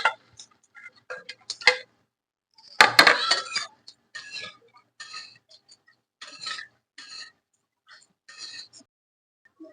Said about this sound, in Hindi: इसमें मखाने भून लेंगे।